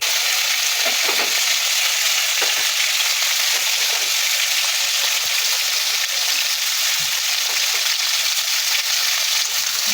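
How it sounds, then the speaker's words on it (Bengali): Spices and vegetables fry in a pan for a milk shukto, giving a loud, dense, continuous sizzle that stays close and steady for the whole stretch. "এবার সব একসঙ্গে ভেজে নেব।"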